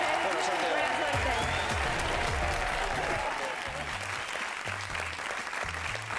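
Studio audience on a Spanish game show applauds the contestants, a dense steady wash of clapping with a host's voice talking over it throughout.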